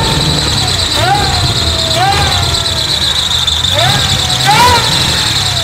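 The LT4-swapped Aston Martin V8 idles with a rising and falling belt squeal, made sticky by power steering oil, repeating several times over the engine drone while people talk nearby.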